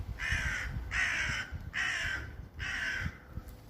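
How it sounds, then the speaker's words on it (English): A crow caws four times in a garden beside a large cherry tree, each harsh call clear and fairly close, spaced evenly over low background rumble. "Nice crow. Hello, crow."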